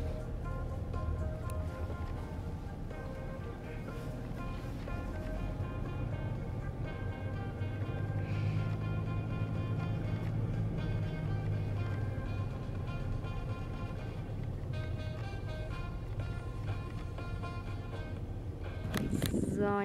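A car towing a horse trailer rolls into the grounds of an equine clinic, giving a steady, close low rumble of engine and road noise that holds for the whole stretch and swells slightly near the end.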